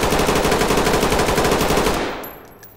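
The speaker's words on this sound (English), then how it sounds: "So we've got a 60 round drum mag here." A machine gun fed from a 60-round drum magazine fires in the Ready or Not video game, one sustained rapid burst of close, loud shots that cuts off and rings out briefly.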